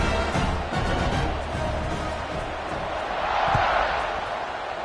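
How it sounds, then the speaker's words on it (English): A stadium crowd in a football video game buzzes with a dense, steady roar that swells slightly near the end, while a commentator's voice talks over it. "this crowd is buzzing after that last score"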